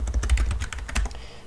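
Rapid, close computer keyboard typing of C code, with a steady run of crisp key clicks in uneven bursts and no one talking.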